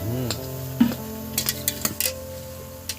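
Chana dal being stirred in a cooking pan, with a scrape and clink of the spoon against metal near the start, then a few lighter taps and clinks spaced through a quiet background.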